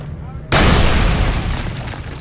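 A grenade blows up in Call of Duty 3 at Saint-Lô, a sudden loud boom after half a second of quiet, then a long rumbling roar that slowly fades while a voice talks over it.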